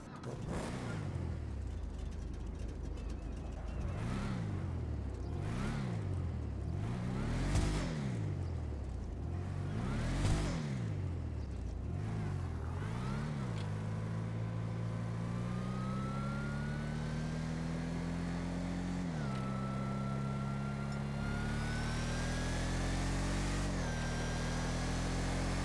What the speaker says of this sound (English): It's just got that perfect ratio of supercharger whine where you can actually hear it and you can hear the exhaust a bit louder.